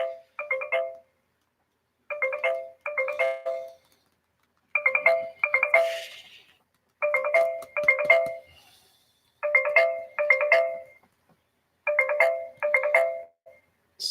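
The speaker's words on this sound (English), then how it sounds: "What's wrong with you, phone? I hear you ringing." A phone ringtone repeats in a steady pattern of short double bursts with brief pauses between them, sounding clear and close with no talking over it.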